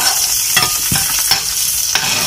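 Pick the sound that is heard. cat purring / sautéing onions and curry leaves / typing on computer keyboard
sautéing onions and curry leaves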